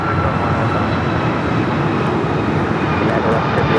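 Airliner taking off from runway 25 right at LAX, a loud, dense, continuous engine roar close by, steady for a few seconds.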